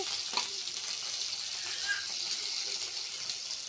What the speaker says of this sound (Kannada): ಬೆಳ್ಳುಳ್ಳಿ ಇದನ್ನು ಫ್ರೈ ಮಾಡ್ಕೊಂಡು